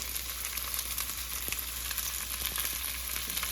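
Onion being sautéed in a hot pan gives a continuous bright sizzle with small crackles and a faint stirring tap, close up and even in level, no one talking.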